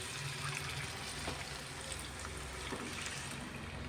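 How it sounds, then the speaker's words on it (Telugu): Water pours into a mixer jar holding leftover masala for a stuffed brinjal curry, producing a soft, steady trickling and splashing that stays faint and continuous. "మిక్సీలో కొంచెం వాటర్ వేసుకొని ఇందులో మసాలా ఉంటుంది కదా"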